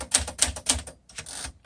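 A 1952 Smith Corona Sterling manual typewriter types uppercase with the shift lock engaged: three hard, evenly spaced key strikes, then a softer mechanical clunk, close and crisp.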